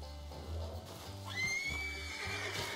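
Horses in a video game neighing loudly, with a sharp, rising whinny in the middle over a low engine-like drone and scattered hoof and movement noises; no speech over it.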